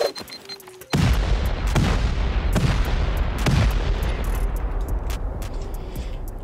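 A big stack of C4 charges detonating against base walls during a Rust raid: a sudden loud blast followed by a rolling series of booming explosions layered over one another, slowly fading into a rumbling tail.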